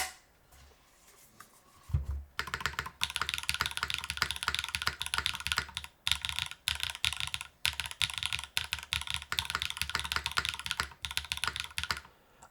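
Fast, steady typing on a Wing60 mechanical keyboard fitted with alternate feet, dense close-up key clacks running continuously after a brief quiet start.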